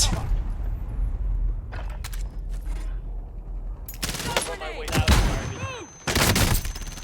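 Gunfire in the video game Warzone crackles in bursts over a rumbling game soundscape, with a player speaking excitedly between shots.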